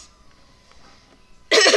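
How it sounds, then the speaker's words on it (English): A single loud cough bursts out at the end after a near-silent stretch, close to the microphone. "I do have a little bit of a cough"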